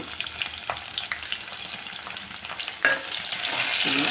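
Onions for a three-lentil sambar fry in a pan, giving a close crackling sizzle broken by repeated spoon scrapes and taps, and the hiss swells louder toward the end.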